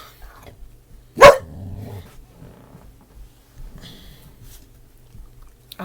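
A single sharp dog bark sounds close and loud, then fades into faint rustling and quiet room noise.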